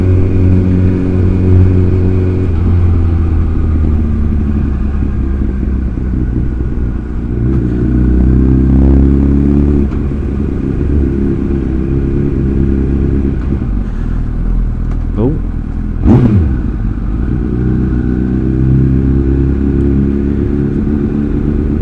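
A Honda CBR1000RR motorcycle engine idles and revs, a steady loud drone with pitch rising and falling through several throttle blips, one sharp rev near the end standing out.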